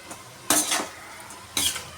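Chicken tipped into a pan of frying spices for chicken fried rice gives two sharp bursts of sizzle and clattering contact against the pan, about a second apart, close up.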